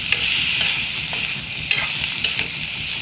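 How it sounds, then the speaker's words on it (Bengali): Potato pieces and garlic frying in a pan, with a steady bright sizzle and a few stirring scrapes, close and continuous, no voices. "এভাবে আমি ভালো করে লাল করে একটু ভেজে নেব"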